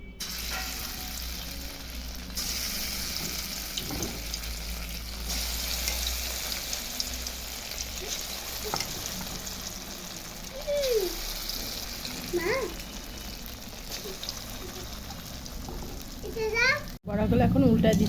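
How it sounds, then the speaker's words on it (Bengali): Lentil fritters (bora) frying in oil in a wok, a continuous hiss and crackle that runs under intermittent voices, with children audible in the background. "কড়াই তেল দিয়ে দিয়েছি, এখন বড়াগুলো আমি ভেজে নিচ্ছি"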